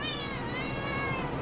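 A pet cat meows at home in one drawn-out, wavering cry, close and clear, with no other sounds.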